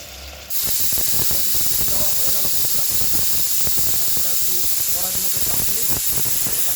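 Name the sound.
hot water added to goat meat curry, steam hissing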